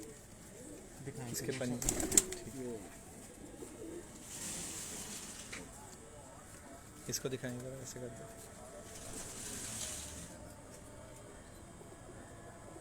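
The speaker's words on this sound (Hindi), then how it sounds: "दोस्तों माशाल्लाह शानदार कबूतर" Domestic rooftop pigeons coo in soft rolling bursts, two clear bouts near and a few fainter ones, while someone talks over them close by.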